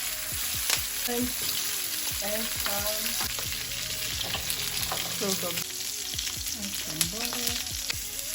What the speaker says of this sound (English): so now I'm going to sear the salmon.